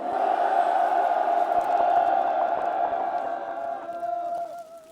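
Crowd at a Rebuilding Korea Party rally urging political reform before the 2026 local elections lets out a loud, sustained shout and roar that holds steady for several seconds before slowly tapering.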